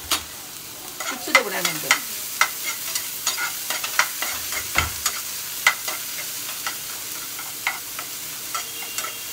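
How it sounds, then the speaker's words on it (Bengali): Vegetables fry in a little butter for an egg-and-bread pizza, a soft steady sizzle punctuated by sharp, regular clicks and scrapes of a spatula stirring the pan, with a brief spoken remark near the start. "একদম সামান্য একটু বাটার দিয়ে ভেজে নেবো"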